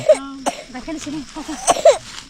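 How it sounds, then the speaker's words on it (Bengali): A child coughs a couple of times in short, harsh bursts, close by, with people talking around the coughs. "কাশি হচ্ছে বাচ্চাটা"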